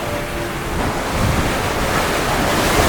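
Waves rush and wash steadily around a sailboat crossing the North Atlantic, with wind blowing over the microphone in a loud, continuous roar.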